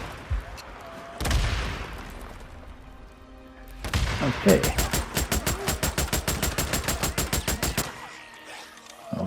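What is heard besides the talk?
M50 Reising gunfire in the video game Days Gone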